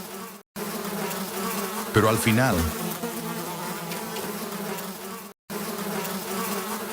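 A dense swarm of bees drones steadily around a wild honeycomb as a baboon raids it. The buzzing is loud and continuous, with a burst of rougher rustling partway through and a short spoken phrase near the end.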